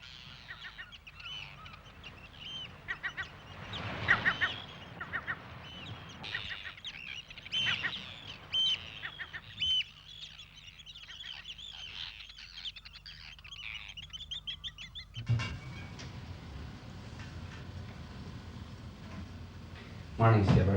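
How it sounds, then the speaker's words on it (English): Seabirds calling on a coast from sunrise into the night, honking goose-like cries repeating irregularly over a steady background, with people talking through parts of it and a louder burst near the end. "they hear the sound of seabirds"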